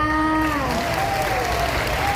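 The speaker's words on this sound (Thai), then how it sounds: "เสียงปรบมือหน่อยจ้า" Loud crowd applause from an outdoor audience at a live singing show in a shopping mall forecourt, continuous dense clapping and cheering, with a sustained held vocal or tonal note over it at the start.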